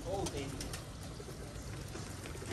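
Pigeons released from their coop coo and flutter close by in a steady rumble of activity, with someone talking over the birds throughout.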